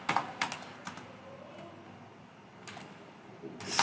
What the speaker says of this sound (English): Now next thing, we will type in SQL plus